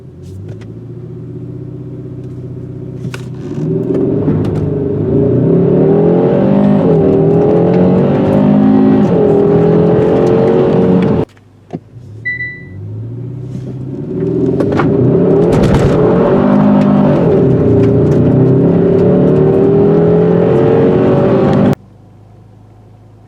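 2021 Hyundai Sonata N Line with 291 hp accelerating hard on wet pavement, a loud sustained engine roar rising through the gears in two long runs separated by a brief lull, with no talking.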